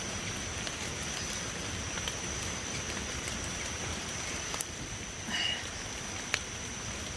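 Steady rain hisses continuously across the whole stretch, with a few faint taps and drips standing out now and then.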